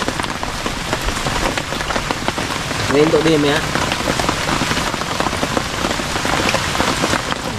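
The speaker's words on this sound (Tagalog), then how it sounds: "Patuloy lang kain kahit may patak ng ulan ah." Steady rain patters loudly on nearby surfaces in a continuous wash, with a voice speaking briefly over it.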